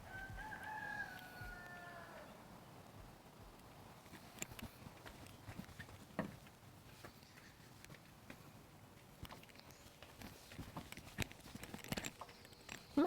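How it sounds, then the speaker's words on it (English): A rooster crows faintly and at a distance at the start in a garden setting. After that come quiet outdoor ambience and scattered soft knocks and rustles. "If Rook's in here, that's your rooster"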